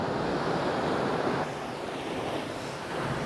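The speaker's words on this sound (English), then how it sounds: "Just waiting for the waves to do the right thing now." Ocean waves wash onto the shore at sunrise as a continuous broad roar of surf, with a slight dip and swell in intensity, steady and close with some wind, no voices.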